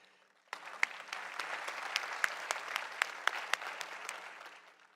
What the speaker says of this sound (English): they definitely deserve a big round of applause